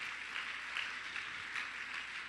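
Congregation in a Spanish-language church service claps in praise, a faint, distant patter of many hands with a slightly pulsing rhythm, steady and low in level.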